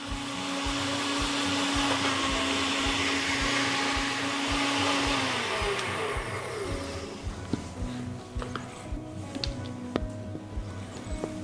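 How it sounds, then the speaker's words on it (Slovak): A blender whips kefir sauce with a loud, steady motor whir for about five seconds, then winds down, followed by light clinks and handling noises. "Omáčku kefírovú ešte zľahka premixujeme."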